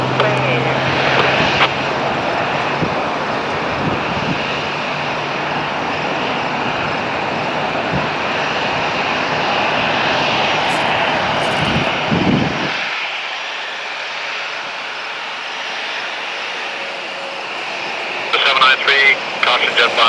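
A British Airways jet airliner roars close by on takeoff from runway 23 at Toronto Pearson (YYZ), a loud sustained engine wash that cuts off sharply partway through, with air traffic control radio talk running over it.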